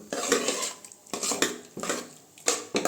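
Cooked moong dal being mashed in a metal pot for a New Year payasam, heard as three or four rhythmic bursts of utensil scraping and clanking against the pot, close and fairly loud, with no talking.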